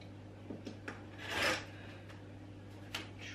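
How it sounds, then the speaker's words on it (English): Scissors or a rotary cutter trimming excess fabric and loose threads from a quilted mug rug against a ruler, a few soft rasping cuts and rubs, quiet and close over a steady low hum. "So just trim that, get rid of all those extra threads."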